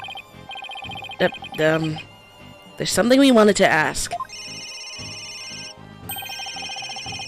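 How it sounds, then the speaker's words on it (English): Two cell phones ringing in the Phoenix Wright: Ace Attorney – Dual Destinies video game, an electronic tonal ringtone repeating in bursts, with a character's voice and game sound effects cutting in between rings. "Where's that ringing coming from?"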